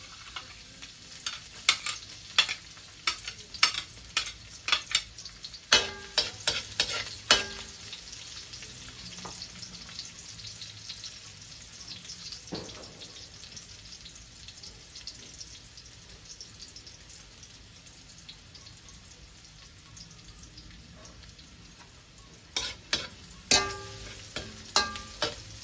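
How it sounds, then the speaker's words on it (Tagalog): Garlic sautés in a pan for chicken tinola, giving a faint sizzle under sharp bursts of scraping stirs early on and again near the end, with a quieter stretch of gentle frying between. "Gigisa natin ng maayos para lumasa yung ano."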